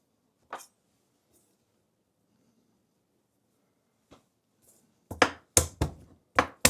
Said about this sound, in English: Give these a smash, get the paper off.